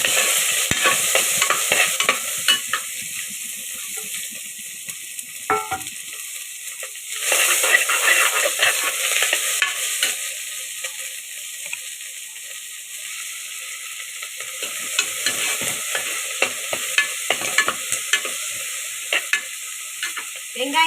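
Chopped onions frying in a pan for a hotel-style salna curry, a steady close crackling sizzle with bursts of stirring scrapes, growing louder around the middle and again near the end, with no talking.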